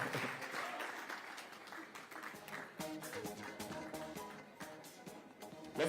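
Audience applause at a women's gala dinner as a bank executive is called up as keynote speaker, steady clapping with music in the background and some voices.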